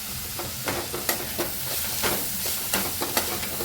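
Vegetables stir-fried with fried rice masala for egg fried rice sizzle steadily in a pan, with a string of sharp scraping stirs of the spatula spaced through the clip; no talking.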